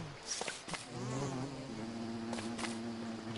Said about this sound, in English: I hear a bee.